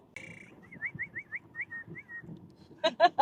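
A ChatGPT synthetic voice imitates a bird call with a wavering whistled trill, then a few sharp chirpy notes, over a faint murmur of background voices.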